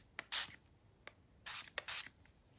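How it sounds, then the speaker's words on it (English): Coffee-colored ink spray misted onto junk journal paper: several short hissing bursts from the nozzle, two longer sprays followed by two more, close and fairly quiet with no talking. "I'm going to try this Eye Zinc spray in Coffee."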